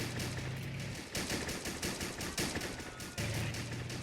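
Rapid machine-gun and rifle fire crackles without pause through a World War II beach assault in a video game, steady and dense, with bursts breaking off briefly before resuming.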